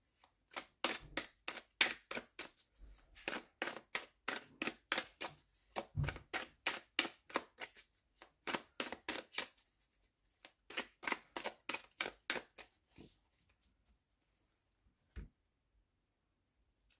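A deck of playing cards is cut and riffled during a tarot-style card reading, giving long runs of rapid, crisp close-up flutters in several bursts, then a pause and a single sharp tap.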